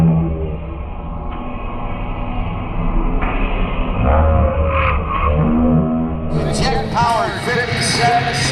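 A jet-powered truck fitted with engines from the North American T2 Buckeye, racing in front of a wall of fire at a show, gives a loud, continuous roar that swells and brightens toward the end.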